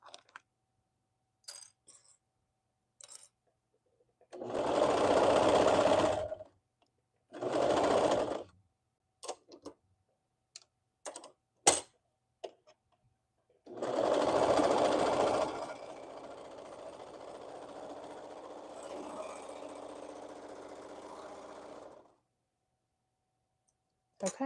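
A sewing machine stitching a hoodie runs in several separate bursts, two short ones and then a longer run that fades quieter, with scattered clicks and handling taps in the pauses between.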